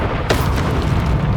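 The Confringo fire-blast spell explodes in Hogwarts Legacy as one loud, sudden burst, followed by a heavy, sustained low rumble that fills the rest of the moment.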